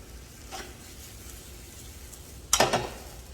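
Pollock fish jeon frying gently in a pan, a faint, steady low sizzle throughout with a brief louder scrape and crackle near the end as a piece is turned.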